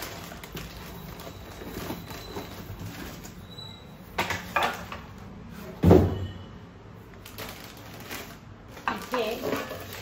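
Box being pulled out and unpacked at home, holding a Rajesh brand tri-ply kadhai: cardboard rustles and shuffles, then a few knocks and a louder thud near the middle, with faint metallic clinks, handled up close.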